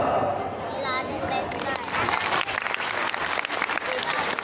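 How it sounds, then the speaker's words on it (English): A large audience at a school Independence Day ceremony applauds steadily, a dense continuous patter of many hands with crowd chatter and a voice over a speaker system early on. "Please welcome them with huge round of applause"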